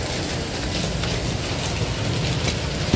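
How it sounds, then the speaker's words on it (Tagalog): Heavy rain pours all day and makes a dense steady hiss that fills the scene evenly with no pauses, with faint low rumbling underneath. "Lakas ng ulan. Maghapon ng ulan dito, grabe."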